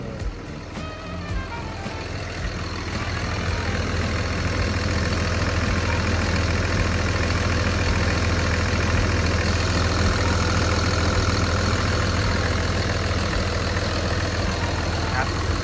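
A Komatsu WA320-6 wheel loader's diesel engine idles close by, a low even rumble that holds constant throughout with no other sounds breaking in.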